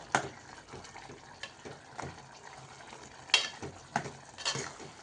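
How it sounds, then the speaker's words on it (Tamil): Ground coconut paste is poured into a simmering tomato curry, giving soft wet splashes and stirring scrapes in a pan over a low bubbling background, close and quiet with irregular bursts. "இந்த ஸ்டேஜில் நம்ம தேங்காய் ஊற்றிடுவோம்"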